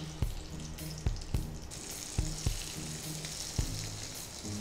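Okra (lady's fingers) frying in a pan of oil, a soft continuous sizzle punctuated by several sharp clattering knocks, close and fairly quiet.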